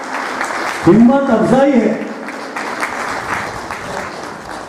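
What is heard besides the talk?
applause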